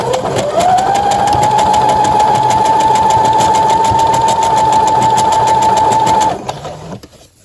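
A sewing machine stitching a t-shirt seam, running continuously at a steady fast rhythmic whir with a sustained motor whine, loud and close, then stopping abruptly near the end with a few soft handling clicks.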